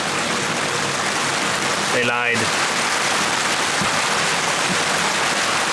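Steady rain falls on an outdoor inground pool worksite, a dense, even patter throughout, briefly interrupted by a short spoken remark.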